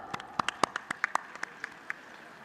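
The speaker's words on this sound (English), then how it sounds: "let's cheer them up again with a huge round of applause" Audience applause at a school annual function: sparse, distinct claps with a few nearby hands, fairly faint, thinning out over a couple of seconds.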